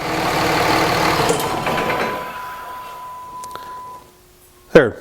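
Dodge Cummins 5.9 diesel truck engine idling after a fuel injector install, a steady close rumble that fades away, followed by a sharp mechanical clunk near the end.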